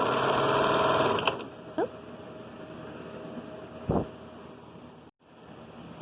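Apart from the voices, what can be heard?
sewing machine stitching a rolled hem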